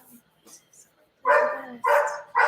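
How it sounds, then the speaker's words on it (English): A household dog barks in a kitchen during home cake baking, three loud close barks in quick succession after a few faint sounds, with people nearby. "Oh, sorry, that's our dog."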